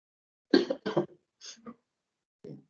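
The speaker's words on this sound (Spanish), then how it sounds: "tengo una tos persistente desde hace algunos días" A run of close, sharp coughs in quick bursts from a persistent cough during a lecture, then a pause and one final cough, with quiet in between.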